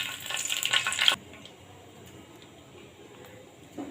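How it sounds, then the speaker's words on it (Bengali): Nigella seeds and a bay leaf crackle sharply in hot oil for about a second, then the sizzle drops away to a faint, quiet simmer with a brief soft clatter at the end. "তেল গরম হয়ে গেছে, এখন দিয়ে দেব কালো জিরে ফোড়ন, দিয়ে দেব তেজপাতা,"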